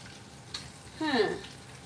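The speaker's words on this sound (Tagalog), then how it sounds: "I'm not cooking dog or cat. Cooking a chicken." Chicken frying in a pan gives a short burst of sizzling, with a brief crackle near the middle followed by a louder hiss that fades away.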